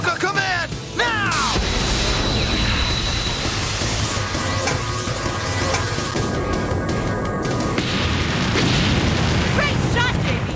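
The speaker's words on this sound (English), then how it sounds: "Skybase, activate Techno Bazooka! VR Techno Bazooka Command, now!" Techno Bazooka weapon from a VR Troopers TV episode fires with loud, dense booms and explosive bursts sustained over about ten seconds, with synthesized whooshes and a voice calling out over the blasts.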